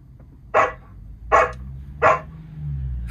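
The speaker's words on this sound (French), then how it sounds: "Fais le chien." Three short, sharp dog barks played by the voice assistant of a 2023 Mercedes C 300e, spaced evenly about a second apart, clear and close, with a faint low hum underneath.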